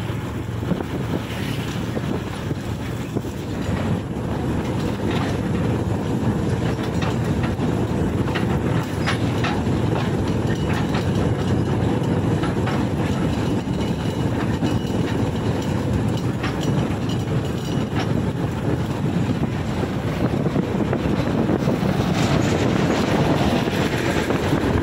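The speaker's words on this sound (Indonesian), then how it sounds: "sekarang saya menunggu kereta lori yang sudah terlihat di depan sana" A sugarcane lorry train runs on narrow-gauge track past houses at night, a steady broadband rumble of wagons that holds level and fairly loud throughout, with wind buffeting the microphone.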